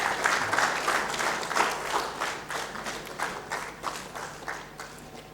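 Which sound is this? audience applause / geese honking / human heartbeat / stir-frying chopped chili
audience applause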